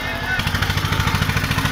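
Tractor engines straining in a tug-of-war contest between Mahindra and Eicher tractors in Meerut, Uttar Pradesh: a loud, steady pulsing diesel chug with a rapid regular beat, growing after a brief quieter start.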